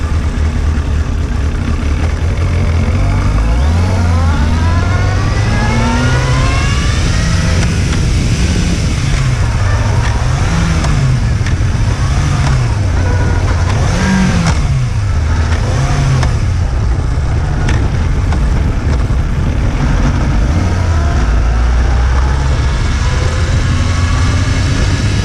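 A used motorcycle with five forward gears and two neutrals and no working second gear runs steadily on a test ride, its engine note rising and falling through several gear shifts over continuous loud road and wind noise.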